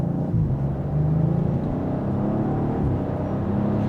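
A 2020 Audi RS5 quattro engine gives a steady, deep rumbling drone from inside the moving car, continuous and fairly loud with no talking.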